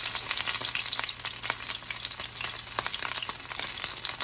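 A tomahawk steak searing in a pan on a stovetop, giving a steady loud sizzle with scattered spitting pops throughout, heard alone without voices.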